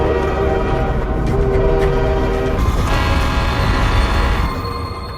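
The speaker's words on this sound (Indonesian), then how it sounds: "melihat kereta datang ke arahnya dalam kecepatan tinggi" A train rushing toward the camera at high speed in a film, a loud rumbling roar with a sustained tonal horn blast, the noise shifting as it passes and easing slightly at the end, with no one talking.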